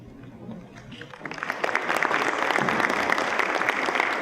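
An audience at a lecture breaks into applause, starting quietly and swelling after a second into steady, dense clapping that continues to the end.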